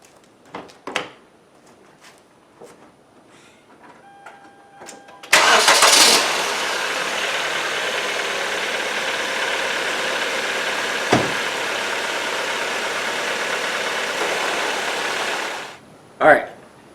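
A car engine dosed with Powermaxx oil system cleaner cranks and catches, then idles in a steady, even hum for about ten seconds before shutting off, with faint handling noises before the start.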